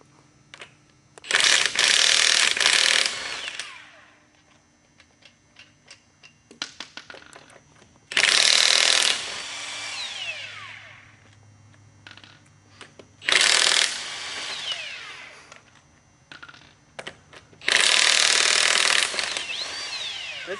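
An impact wrench spins car tire lug nuts off in four loud, sustained bursts of several seconds each, separated by quieter pauses with faint handling clatter.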